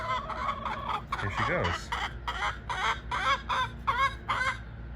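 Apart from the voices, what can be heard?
Polish hen clucking loudly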